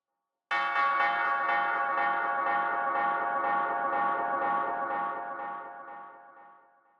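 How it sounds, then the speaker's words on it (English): A single church bell sample from a Goldbaby pack is struck once, its rich metallic tone ringing clearly and slowly decaying over several seconds with a gentle pulsing shimmer. "we added one more interesting part, which was a church bell sample from the Goldbaby pack"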